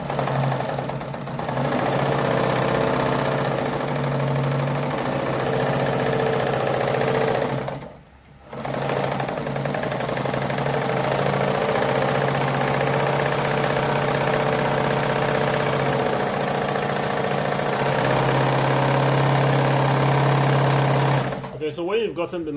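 A Jones model 556 sewing machine runs steadily for over twenty seconds, a close, even mechanical whir with a brief pause in the middle, and a voice talks over it.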